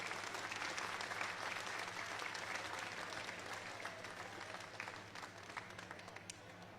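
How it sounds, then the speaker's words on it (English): Spectators at the 2021 AOA National Alpaca Show give a round of applause for the blue-ribbon winners, a full, sustained crowd clapping with a constant low hum underneath, gradually easing off in loudness. "give them all a round of applause."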